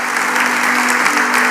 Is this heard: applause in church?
yes